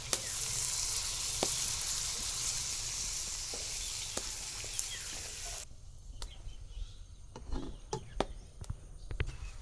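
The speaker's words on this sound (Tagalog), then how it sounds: "Tapos papakuluan natin ulit gamit ang Sprite." A pork leg boiling in Sprite with bay leaves and a little sugar, giving a steady close bubbling and sizzling hiss that turns quieter midway into sparse pops and crackles.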